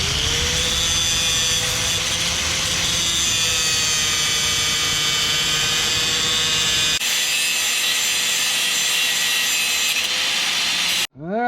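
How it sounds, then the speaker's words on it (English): An angle grinder cuts bolts flat on a VR6 flywheel from a VW B5, giving a loud, continuous high-pitched grinding whine that changes tone partway through and cuts off abruptly at the end. "I'm basically gonna take a grinder and just shave it off"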